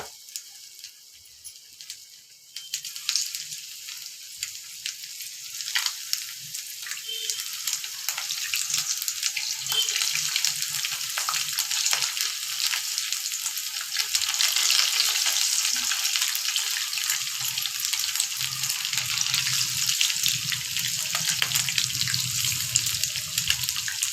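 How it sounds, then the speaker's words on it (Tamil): Marinated chicken lollipops frying in hot oil, a dense, bubbling crackle that grows louder after the first few seconds and keeps going steadily, up close with no talking. "அந்த ஊற வச்சு சிக்கன் எடுத்து லாலிபாப் சிக்கன் எடுத்து இப்போ எண்ணெயில் விட்டுக்கலாம்"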